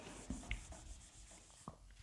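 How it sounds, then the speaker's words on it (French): Pen scratching across paper while solving a Thales theorem geometry exercise, faint close strokes with a few soft taps, no talking. "j'écris maintenant pour obtenir MB"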